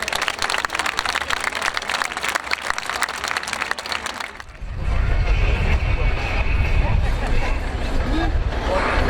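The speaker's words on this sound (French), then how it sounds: "Vous pouvez grandement applaudir le bulle qui vient de créer une ouverture au milieu du feu face à vous." A crowd applauds a fire crew aircraft that has just cut an opening through a blaze during a fire brigade open day; steady clapping fills the first half, then gives way to a loud low rumble of engine and wind.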